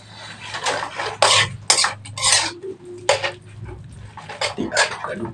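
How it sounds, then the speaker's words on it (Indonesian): Utensils clink and scrape against a bowl as spicy instant noodles with chili oil and seasoning are stirred, a series of irregular close metallic taps and scrapes across the stretch, with no talk. "kita aduk dulu guys."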